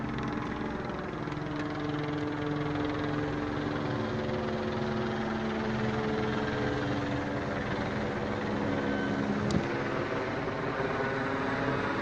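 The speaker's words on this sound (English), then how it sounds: "here comes the helicopter again, circling around over me" Helicopter circling overhead above a plaza, a steady droning engine hum with tonal harmonics holding at a constant distance throughout, with a brief faint click near the end.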